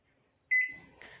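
A microwave oven starts up with a short beep, then hums steadily as it runs to melt a little butter in a small glass dish, close by with no talk.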